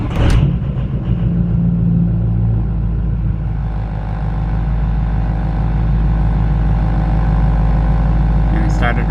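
A Ford 6.0 Powerstroke diesel truck engine fires up with a sharp start at the beginning, then settles into a loud, steady, close-up idle with a deep droning rumble that holds to the end.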